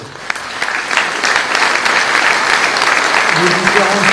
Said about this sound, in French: je voudrais qu'on applaudisse Jean-Daniel Sabat